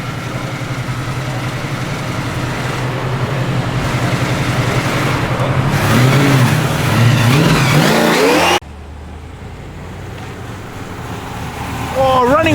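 Loud, steady engine roar from a Tuff XB GT at a Sydney car show fundraiser, rising in pitch as it revs, then cutting abruptly to a quieter idle, with crowd noise throughout.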